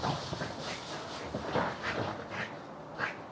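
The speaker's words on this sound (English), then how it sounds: "That's the dog trying to kill a cat at the minute." A dog whimpers and pants in short, agitated bursts while trying to get at a cat, fairly close and heard alone over a few seconds.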